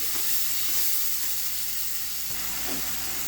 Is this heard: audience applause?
no